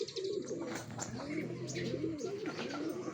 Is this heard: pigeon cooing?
yes